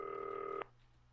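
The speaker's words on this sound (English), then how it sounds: "Oh, phone." A telephone ringing inside the video game Not For Broadcast, a single sustained electronic ring tone that cuts off sharply after about half a second, followed by quiet.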